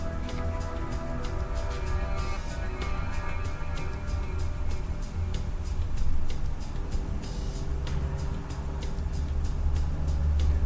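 A Ridgid 1224 threading machine cuts pipe with a steady, loud mechanical drone and a regular ticking clatter running throughout.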